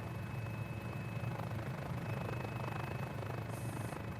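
Mini 500 helicopter in Microsoft Flight Simulator, a steady droning rotor and engine hum held at even loudness throughout, with no talk.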